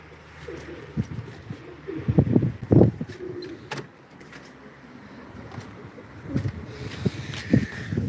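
Pigeons at a live pigeon and game bird auction coo in soft, low bursts close by, with scattered knocks and shuffling between the calls.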